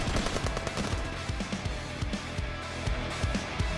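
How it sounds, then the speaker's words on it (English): Rapid bursts of gunfire from a one-handed shooter in the Path to Nowhere video game, dense overlapping shots crackling continuously through the whole stretch, loud and close with no talk. "He pelts them with gunfire with one hand."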